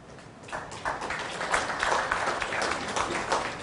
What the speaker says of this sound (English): So while I thank you for the claps